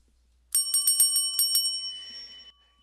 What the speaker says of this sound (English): that's my bell. That's my bell. Whenever I do that bell, it means like, well, basically means something really important is going to happen.